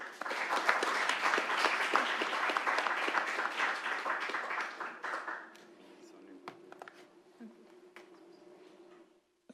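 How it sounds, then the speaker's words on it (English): A conference audience at a quantum computing hackathon bursts into sustained, dense applause that fills the first half, then thins to scattered claps over a low background hum before fading out. "Let's give them a round of applause."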